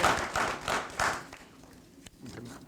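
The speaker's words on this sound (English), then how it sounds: "I would like to give a round of applause for them being able to kind of talk to the kids." Audience applause at a cadet program graduation ceremony, a handful of distinct claps up front that thin out and fade within a couple of seconds, fairly faint, with a stray tap near the end.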